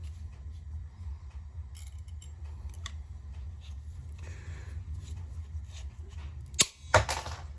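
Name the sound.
clamping pliers clamping and cutting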